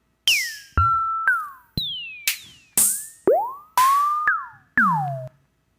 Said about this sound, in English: this is what 10 random these 808 sounds sound like